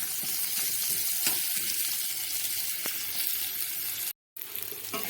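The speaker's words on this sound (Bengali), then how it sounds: "সব সবজিগুলোই বেশ সুন্দর করে ভাজবো" Vegetables fry in mustard oil in a wok, a steady close sizzle with occasional clicks of stirring, continuous until a brief cut near the end, with no talking.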